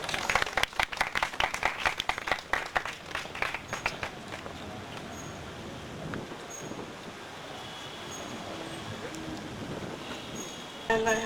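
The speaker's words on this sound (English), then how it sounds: "Let's give them a round of applause." Audience applause at a Freetown pitch night event, a dense burst of clapping in the opening seconds that thins into scattered claps and room noise, with a brief flurry of clapping again at the very end.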